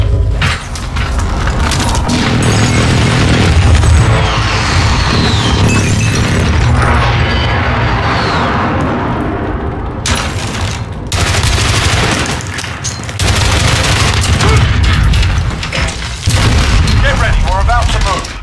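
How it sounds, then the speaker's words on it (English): Precision airstrike explosions in Call of Duty Modern Warfare multiplayer, a loud, dense barrage of booming blasts and crackling gunfire that goes on almost without a break, with a voice speaking over it. "Enemy precision airstrike."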